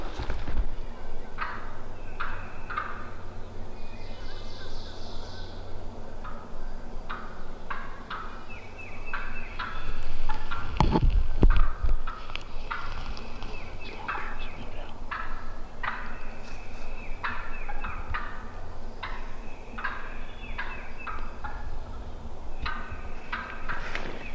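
Several wild turkeys in Kentucky gobble repeatedly in bursts across the recording, fairly close and loud, with a brief rustling thump near the middle and no talking.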